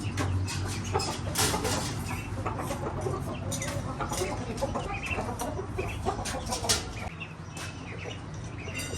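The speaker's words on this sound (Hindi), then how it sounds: "ये डक भी आ गई और चकोर वगैरह भी आ गई हैं बाहर, और ये भी दाना खा" Chukar partridges and ducks let out of their pen on a farm, clucking and chirping in a dense, busy chorus of fowl calls that carries steadily throughout.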